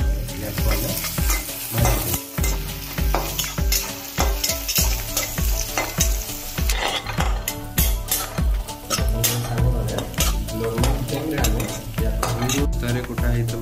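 Onions frying in a pan for homemade chicken biryani, a steady loud sizzle with repeated stirring scrapes and clatters running throughout, no talking.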